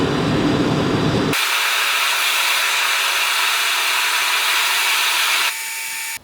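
A new workshop heater roars steadily with a loud, broad blowing rush that holds for several seconds, then drops to a quieter setting and cuts off. A lower rumble runs underneath at the very start, and no one speaks.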